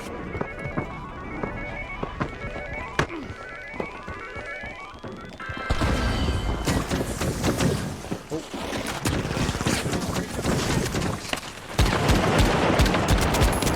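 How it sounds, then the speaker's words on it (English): Light SMG fire in a multiplayer shooter game rattles in rapid bursts amid crashing impacts and chaotic game noise, loud and dense, with players talking over it. "That light SMG is far too effective."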